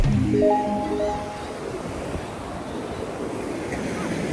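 Surf washing in close by, a steady rushing roar of water with a brief low tonal swell at the start, continuous and fairly loud.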